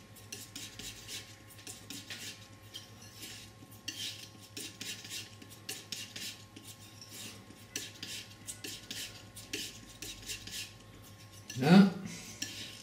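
A palette knife mixing white and Prussian blue oil paint, a soft continuous scraping and smearing with faint clicks of the blade, ending in one louder knock.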